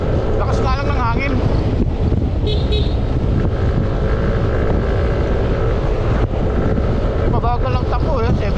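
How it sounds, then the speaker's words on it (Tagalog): Strong wind buffets the microphone in a constant roaring rush on a moving Yamaha Aerox 155 scooter at about 77 km/h, with faint engine and road noise beneath. "Lakas nga lang ng hangin."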